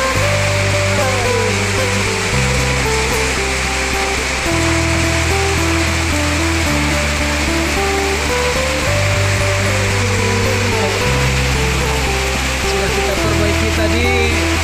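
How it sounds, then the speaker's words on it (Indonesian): Rain pouring steadily onto a leaky old hut with a worn metal roof, a dense continuous hiss alongside a loud repeating low musical drone. "Ini cuacanya seperti ini, hujan."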